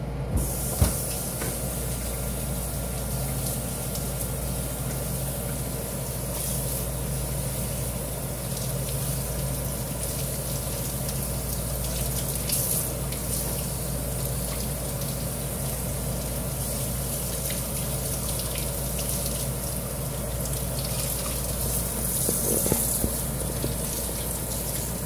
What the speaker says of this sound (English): rinse your meat off